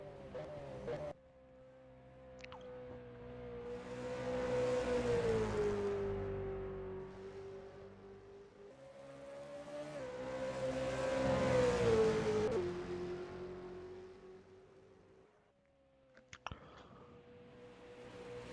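V8 Supercars race cars, including the Monster Energy Nissan, lapping a circuit in race trim; engine notes swell and fade as cars pass, rising and dropping pitch with gear changes, fairly distant, with a commentator talking over them.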